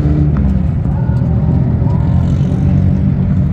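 A car engine rumbles loudly and steadily up close at Fuji Speedway, its low drone rising slightly as it revs, with no talking.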